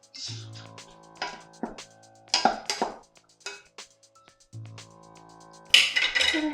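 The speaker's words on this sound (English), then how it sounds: "we're gonna add in the meatless ground and cover it with a lid for your saucepan. I'm gonna stir it in a little." Meatless ground is stirred into a covered saucepan of lentil tikka masala, giving scattered clinks and scrapes of a utensil against the pot in short irregular bursts, close and fairly clear.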